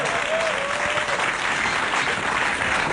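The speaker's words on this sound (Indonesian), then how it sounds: "Tepuk tangan sekali lagi buat Aco." A stand-up comedy audience applauds the comedian after his set, a steady, dense burst of clapping, moderately loud and close, with a faint whistle-like tone early on.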